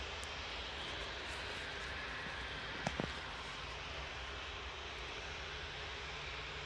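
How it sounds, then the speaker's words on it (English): A TUI Boeing 737-800 airliner's engines roar steadily at Manchester Airport, a broad continuous rumble with no talk, broken near the middle by a couple of brief sharp knocks close by. "Next out is this Boeing 737-800 TUI GT UKS, 16 years old, and it's off to roads."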